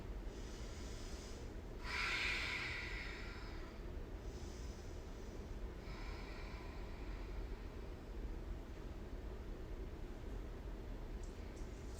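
Breathing during a yoga stretch, one clear audible exhale around two seconds in and fainter breaths later, set against a steady low background rumble.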